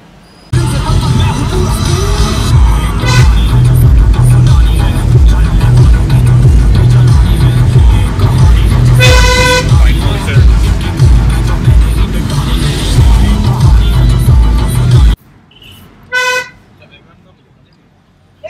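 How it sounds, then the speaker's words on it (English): Loud road traffic on the way from West Bengal into Nepal: a steady engine rumble with repeated car horn toots, including a run of honks near the middle and two short horn blasts after the traffic noise cuts out. "There is lot of traffic over here."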